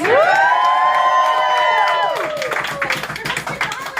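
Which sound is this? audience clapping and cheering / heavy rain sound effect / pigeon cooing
audience clapping and cheering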